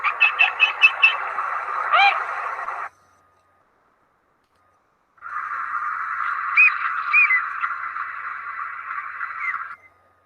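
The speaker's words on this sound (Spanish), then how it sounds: "el sonido como más grave es el del gallinazo" Harsh, raspy calls from a black vulture. A burst of rhythmic pulses is followed by a silent gap, then a longer stretch of scratchy calling, with another bird faintly in the background.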